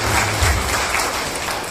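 Applause from the audience at the Bellary working journalists' association installation ceremony in honour of B. Nagendra, a dense and steady wash of clapping that fills the brief moment, with no voices over it.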